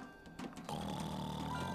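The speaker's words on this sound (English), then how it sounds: "that's some serious snoring" A sleeping bear cub on a boat snores in one long, steady, rumbling breath, close and fairly quiet, with no talking.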